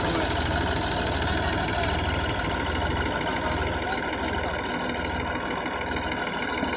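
A Massey Ferguson 35X tractor engine runs steadily outdoors during field planting work, a loud, close, rhythmic knocking chug that continues without pause.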